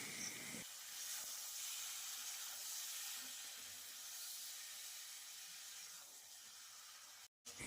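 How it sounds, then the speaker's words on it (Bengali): Ingredients fry in a pan with a soft continuous sizzle and hiss that stays faint and even throughout, cut by a brief silent gap near the end, with no speech. "এটিকে লাল লাল হওয়া পর্যন্ত ভাজতে হবে।"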